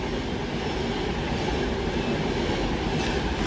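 Avanti West Coast passenger train from Liverpool Lime Street to London Euston passing through Nuneaton station, a loud, steady rushing rumble of wheels on rail that holds throughout, with no talk.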